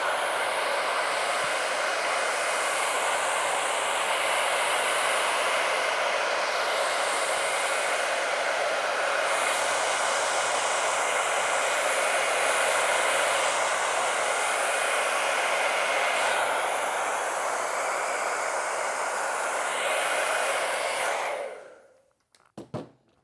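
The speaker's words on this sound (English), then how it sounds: "I'm gonna use my blow dryer to kind of show any flaws" A blow dryer runs through an anime-style haircut: a steady, loud, close whooshing of airflow that holds for about twenty seconds, then cuts off abruptly. No one talks.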